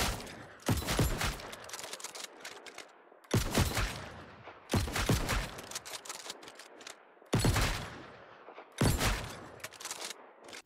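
Blunderbuss auto attacks in the video game New World, five loud, booming shotgun blasts spaced a couple of seconds apart, each followed by a rattling tail that fades before the next shot.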